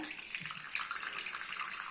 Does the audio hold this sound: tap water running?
yes